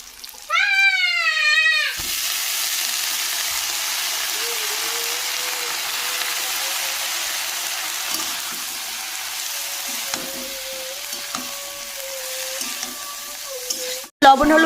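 Shrimp and cabbage are dropped into a pan with frying onion, and a steady close sizzle follows. A cat meows in the background, and a brief clatter can be heard at the end.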